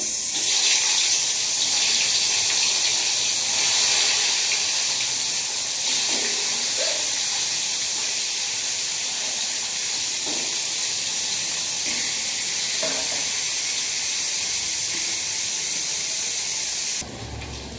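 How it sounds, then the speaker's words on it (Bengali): Bhetki fish sizzling as it fries in hot oil in a wok, a steady loud hiss that crackles and spits throughout and drops away abruptly at the very end. "তো এখানে ভেটকি মাছ ভাজার জন্য আমি কড়াইতে তেল দিয়েছি, আর ভেটকি মাছগুলো আমি আস্তে আস্তে"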